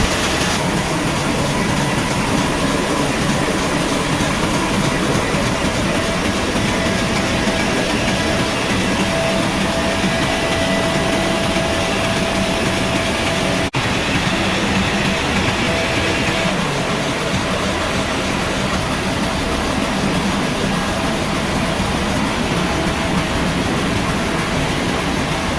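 A ship's engine room roars loudly and continuously during a Suez Canal transit, a dense, heavy mechanical drone with a low rumble and steady high-pitched whine that never lets up.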